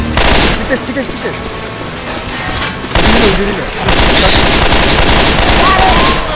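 Gunfire from the video game Left 4 Dead 2, rapid loud bursts of shots running through most of the clip with voices talking in the game and over it.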